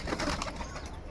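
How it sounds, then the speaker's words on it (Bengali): Domestic pigeons kept as a hobby flock, cooing softly amid a dense, noisy background that stays steady throughout the short stretch. "এই যে আর এক জোট পায়রা।"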